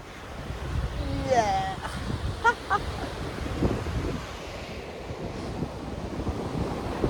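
Ocean waves washing onto a sea shore, a continuous near surf roar with buffeting wind on the microphone; brief whistle-like tones sound early on, and no clear talk is heard.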